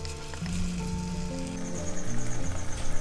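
Bottle gourd halwa cooking in ghee in a pan while a spoon keeps stirring it: a steady moderate sizzle with soft scraping pulses toward the end, and faint sustained tones underneath.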